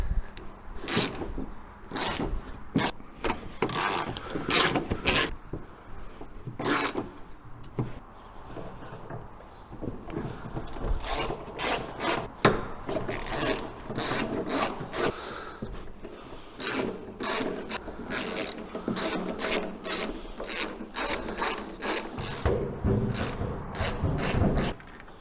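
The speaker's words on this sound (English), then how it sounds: "1/2-inch socket." Half-inch socket ratchet clicking away at bolts on the front wing of an MGB during restoration, dense repeated ratcheting bursts with scraping in between, close and continuous.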